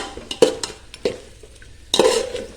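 Pulao ingredients are stirred and sautéed in a pot, with a spoon scraping and clinking against metal in a few close, distinct strokes over a faint sizzle.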